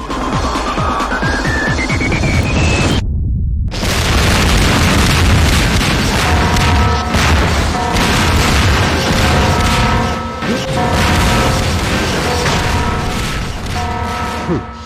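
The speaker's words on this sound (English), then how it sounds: "next torpedo seems to be coming my way. That one's coming through the wall." A torpedo strikes a ship in the space game EVE Online, with loud continuous booming blasts and a rumbling cacophony after a brief rising tone and a sharp cut, dense and overwhelming throughout.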